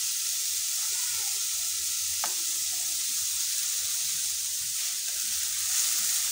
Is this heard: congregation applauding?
no